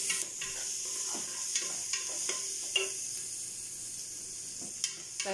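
Garlic sizzles softly in oil in a pan while being stirred, with repeated scraping clicks from the utensil over a steady hiss.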